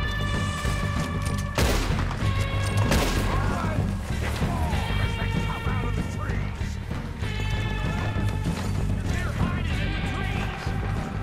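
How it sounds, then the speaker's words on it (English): Gunfire rings out in Red Dead during a train robbery, with several loud, sharp cracks and bursts scattered through the scene over a steady backdrop of music and game noise. "now you're shooting at me"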